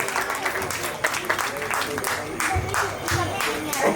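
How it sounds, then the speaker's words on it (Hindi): Audience clapping during a religious drama at a Digamber Jain temple festival, a steady patter of applause with voices and some low sounds mixed in beneath. "प्लीज तालियां तो अच्छे से बजाएं।"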